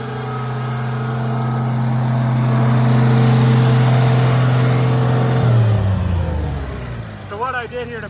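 A vintage tractor engine runs loud and steady on a dyno, then drops away as it is idled down, with a voice talking over it near the end.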